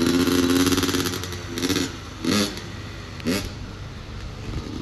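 Two-stroke 85cc dirt bike engine revving in short bursts, loud and close at first, then dropping to idle with several brief sharp blips of throttle.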